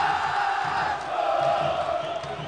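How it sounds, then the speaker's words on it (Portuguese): A football crowd at the Maracanã in Rio de Janeiro chants in unison during a 1998 Vasco versus Fluminense Carioca championship match, a dense, continuous roar of many voices filling the stadium at steady loudness. "torcida grita, frangueiro"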